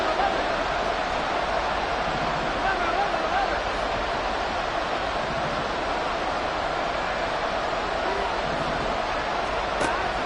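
A stadium crowd in a Chiefs vs Bengals football video game roars in a dense, steady wash of noise that stays level and continuous throughout.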